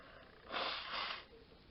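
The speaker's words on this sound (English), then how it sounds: "I'm going to blow my nose" A single short, breathy nose blow lasting under a second, fairly close, with quiet room tone before and after.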